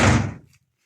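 A door in an abandoned house slams once, a loud, close thud that decays quickly into near silence.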